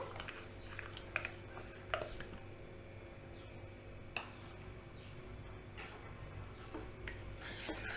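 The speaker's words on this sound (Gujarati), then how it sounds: "ઘી ગોળ સરસ એક રસ થઈ જાય એટલું જ આપણે મિક્સ કરવાનું છે" Jaggery being stirred into hot ghee in a kadai over a low flame, soft scraping and stirring strokes with a faint sizzle, a few sharper clinks of the spoon against the pan.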